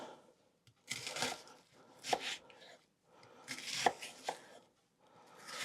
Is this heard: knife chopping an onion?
yes